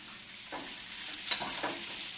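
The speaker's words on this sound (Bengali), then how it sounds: "এরকম আলুটা একটু নেড়ে ছেড়ে নেবে, নেড়ে ছেড়ে হালকা যেই ভাজা হয়ে যাবে" Potato pieces sizzle in a pan while a utensil stirs them, with a few distinct scraping strokes over a soft steady frying hiss, close and quiet, without talk.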